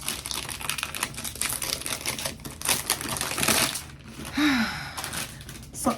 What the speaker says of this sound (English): So let's unbox it